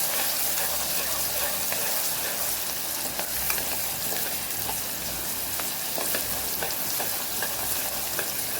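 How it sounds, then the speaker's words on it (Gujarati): Coarse ginger-garlic paste sizzles steadily in hot oil, with scattered pops and a scrape of stirring now and then, close up with no talking. "અહીં આપણે આદુ લસણની પેસ્ટ જે દરદરી કરેલી એ ઉમેરીને સાતળી લેશું"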